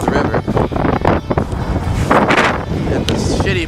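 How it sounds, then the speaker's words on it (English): Strong wind buffeting a microphone beside a frozen river near a bridge in Hokkaido, heavy gusty rumbling and flutter in uneven bursts, with someone speaking under the noise. "it's windy as hell"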